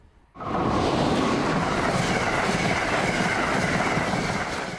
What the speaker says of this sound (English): Acela trains whistle to and through Rhode Island daily.